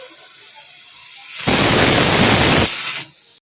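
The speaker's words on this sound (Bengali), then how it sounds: "এদিকে সিটি দেওয়া হয়ে গেল" Pressure cooker whistling as it vents steam while carrot halwa cooks, a loud, continuous broadband hiss rising abruptly, holding for about a second and a half, then cutting off.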